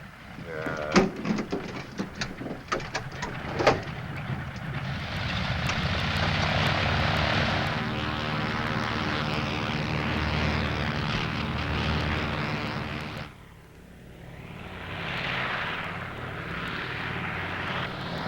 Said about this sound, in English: Would you like to make your airplane fly now?